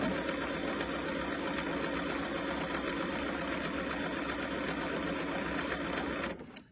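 A Bernina sewing machine stitches a buttonhole with a steady, close, continuous mechanical whir that runs unbroken before cutting off abruptly at the end.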